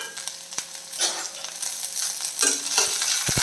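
Ginger, garlic and green chilli sauté in oil in a pan over a lowered flame, a close bright sizzle broken by scraping stirs and a few sharp utensil knocks, with no talking.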